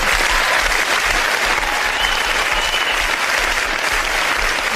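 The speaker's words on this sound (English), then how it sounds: "Give her a round of applause" A television audience applauds Leslie Smith, resident historian on a live ghost-hunting broadcast, with steady, dense clapping that stays loud and even throughout.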